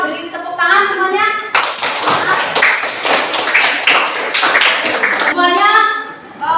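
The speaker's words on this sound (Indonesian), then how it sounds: "kita beri tepuk tangan semuanya" A classroom applauds a student group about to present, with brisk, dense clapping from many hands for several seconds, framed by a teacher's voice speaking before and after.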